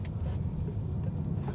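A Smart #1 Brabus car drives through a roundabout, its low road and engine rumble steady and close throughout with no voices.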